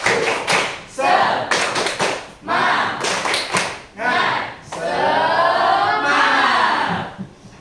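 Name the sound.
class doing the "tepuk semangat" rhythmic clapping chant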